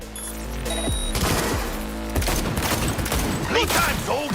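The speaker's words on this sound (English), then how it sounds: "Someone's shooting?" Video game gunfire crackles in rapid, repeated bursts and volleys, loud and close, with voices and game sound mixed in.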